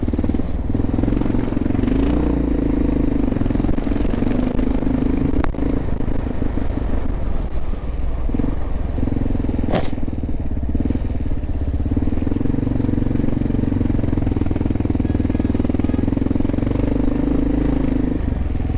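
A Kawasaki KLR 650 motorcycle engine runs at a steady, even drone, loud and close, with some wind buffeting and a brief clatter midway.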